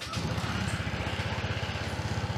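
A small motorcycle engine idles right after starting, close and fairly loud, with a fast, even putter that runs steadily throughout.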